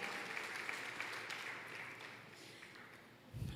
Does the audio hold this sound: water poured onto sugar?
no